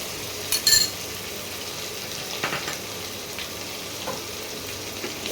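Ground onion paste sizzles steadily in a hot pan while a prawn malai curry is being cooked, with a few soft clinks of a utensil near the start and no talk.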